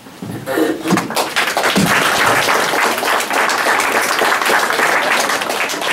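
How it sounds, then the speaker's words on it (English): Audience at a local candidate forum breaking into applause, a sustained wash of many hands clapping that starts abruptly and stays loud and steady for several seconds. "If you could hold your applause"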